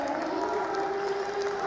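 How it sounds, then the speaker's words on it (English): Crowd applauding steadily at a powerlifting world championship after a record lift in the men's -49 kg class, a continuous wash of clapping and cheering from a large audience. "He's getting a great reception from the crowd"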